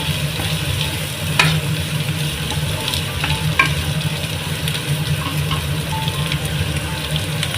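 Greens sauté in a hot pan for chicken fried rice, a loud, continuous sizzle with occasional scraping stirs and sharp pops, up close.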